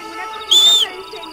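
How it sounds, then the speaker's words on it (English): A sharp whistle calls a horse in the video game Red Dead Redemption, a single short rising tone cutting clearly above a soft ambient backdrop. "Most of the time you can just whistle and your horse will come back to you from wherever it's ended up."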